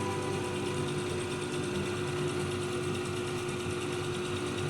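A gemstone faceting machine cutting the table facet at a 45-degree angle hums in a steady, moderate whir with a constant tonal drone, continuous and unbroken, no voices.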